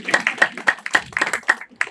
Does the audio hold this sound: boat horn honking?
no